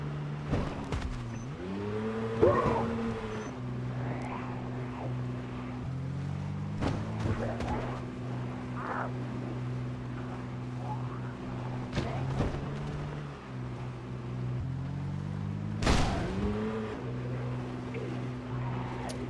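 Car engine driving in Project Zomboid, a steady low hum with shifting pitch as the vehicle speeds up and slows, with a few bumps and clunks along the way and faint talk in places.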